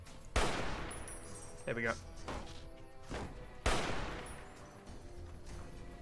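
Gunfire in the video game Fallout New Vegas: two sharp, loud shots about three seconds apart, each ringing off into a decaying tail, with a person talking between them.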